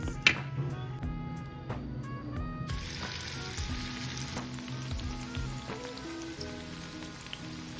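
Raw jackfruit kebabs fry in oil in a frying pan, giving a steady, close sizzle with popping crackle and faint background hum, no one speaking.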